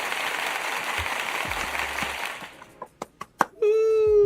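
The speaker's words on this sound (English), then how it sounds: "This is for applauding the article topic." Applause sound effect played during a gaming podcast, a dense wash of clapping that fades out after about two seconds, followed by a few sharp clicks and a tonal chime.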